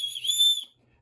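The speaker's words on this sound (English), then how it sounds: "they got the survival whistle on here. Here, let me give it a little toot." A survival whistle built into a Wenger Swiss Army knife gives one short, shrill, high-pitched toot lasting about half a second, loud and close, then cuts off to near silence.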